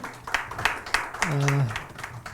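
A small seminar audience at a university NFT and blockchain forum claps to welcome a guest speaker, with sparse, evenly spaced claps heard alongside a voice speaking.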